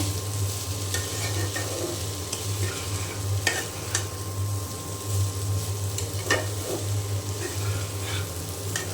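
Potato bhaji frying in a pan while being stirred, a steady close sizzle with repeated scraping strokes and occasional utensil taps, a low hum running underneath throughout.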